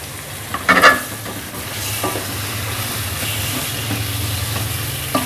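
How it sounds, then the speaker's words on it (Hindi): Chicken sizzles in hot oil with garlic and ginger for Lahori murgh cholay, a burst of stirring clatter near the start, then a steady, close frying hiss continuing alone. "और चिकन डालकर इसकी अच्छे से भुनाई करेंगे।"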